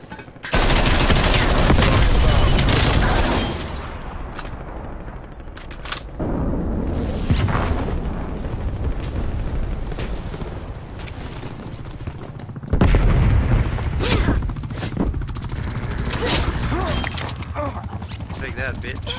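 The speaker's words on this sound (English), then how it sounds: "Artillery targeting detected." Artillery strike explosions in Call of Duty: Cold War, loud booming blasts followed by scattered gunfire, crackling debris and quieter stretches, with a voice speaking among the impacts.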